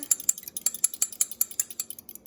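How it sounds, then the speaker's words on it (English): An egg and vanilla beaten together with a fork in a bowl, giving a quick, regular series of sharp metallic clinks and taps against the dish, close and distinct with no talking. "Then you're gonna take 1 egg and 1 teaspoon of vanilla and beat it together."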